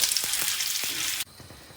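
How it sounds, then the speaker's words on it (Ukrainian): Chicken hearts frying in a small amount of oil, a loud steady sizzle with faint stirring knocks that suddenly drops to a quieter sizzle near the end. "На невеликій кількості олії. Обсмажуємо до готовності."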